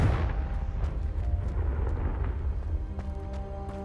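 A Confringo blasting-spell explosion in Hogwarts Legacy booms out as a deep, sustained rumble that fills the scene and slowly fades over a few seconds, with faint tonal hum rising near the end.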